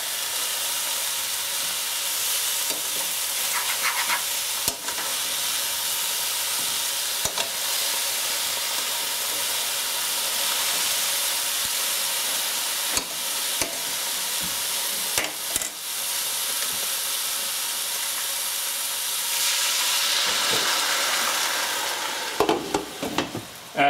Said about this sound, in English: So we'll give this another little bit of a stir here.